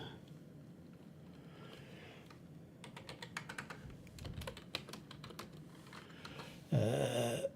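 Quiet clicking of typing on a computer keyboard in a room, with bursts of rapid keystrokes in the middle and a louder rustle near the end.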